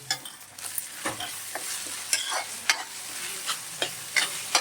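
Andhra-style chicken curry gravy with masala sizzles steadily in a pan while a spoon scrapes and stirs it. The stirring strokes come in irregular, close-up bursts over the constant frying hiss.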